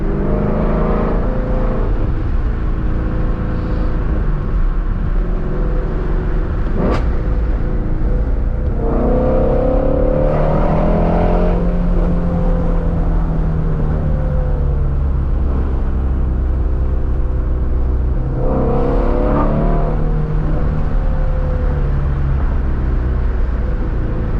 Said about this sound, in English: Downshifting the second is always so fucking mean. That shit sounds crazy.